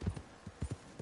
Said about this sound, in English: How did I make my horse jump?